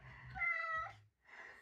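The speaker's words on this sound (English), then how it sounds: "I mean, he's still meowing." A male house cat meows up close indoors: one drawn-out, wavering cry, then a second meow beginning after a short pause. No talking.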